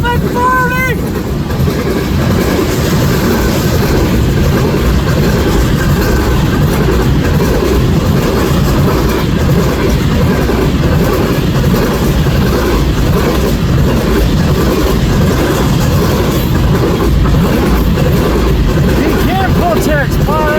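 CN 3427, an AC44C6M freight locomotive, hauls loaded Canpotex potash cars past at Ladysmith, Wisconsin, with a steady, loud rumble and rolling rail noise that continue throughout, and brief horn-like tones near the start and end.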